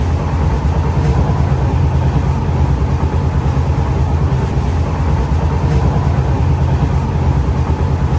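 Long-distance passenger train running on the rails from Delhi to Kerala, a loud, steady, broadband rumble with dense low-end clatter throughout, heard from inside the carriage with no speech.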